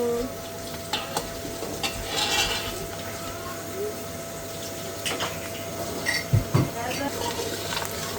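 Onion frying in Manchurian gravy in a pan, a soft steady sizzle broken by a few spoon scrapes and light clinks, with quiet talk.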